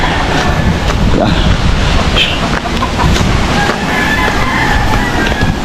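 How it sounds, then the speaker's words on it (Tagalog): Wind blows strongly by the sea and mixes with the wash of surf, forming a loud, continuous rushing roar with gusty buffeting against the microphone. "At mahangin naman."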